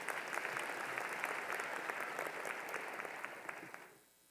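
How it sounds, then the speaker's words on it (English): A commencement audience applauds with a dense, steady clatter of many clapping hands across a large hall, holding strong for several seconds before fading out at the end. "Let's give her another round of applause as well"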